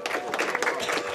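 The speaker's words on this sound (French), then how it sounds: "Le débat se termine sous les applaudissements" Brief, fairly loud applause from the room as a public debate ends, with claps blending into crowd noise.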